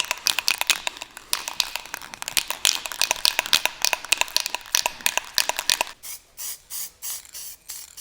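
Aerosol can of SEM Color Coat satin black paint spraying, rapid short hissing bursts in quick succession, then several longer separate sprays near the end.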